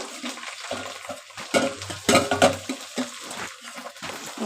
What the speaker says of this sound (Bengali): পেঁয়াজের সঙ্গে ভালো করে পাট শাকগুলোকে এবার নেড়ে চেড়ে কষিয়ে নেব